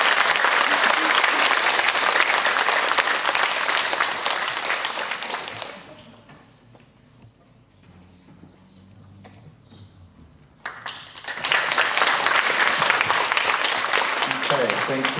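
An audience at a primary school graduation ceremony for the class of 2020 applauds award winners: loud, sustained clapping that drops away to near silence midway, then swells back up just as strongly.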